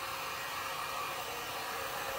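A hair dryer blows steadily while drying paint on a decorative flag-painted tray, a constant airy whoosh with no change in pitch, close and alone without talk.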